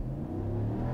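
A 2021 Dodge RAM 1500 Laramie Sport pickup accelerates from a standstill at full throttle, its engine a loud, steady low roar close by.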